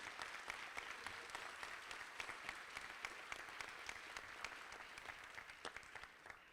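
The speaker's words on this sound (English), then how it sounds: "We can clap it up for our operators and people on the front lines that make everything work" An audience at a transit advocacy group's annual meeting applauds transit operators and front-line workers with steady, dense clapping that sounds distant and faint, tapering off near the end.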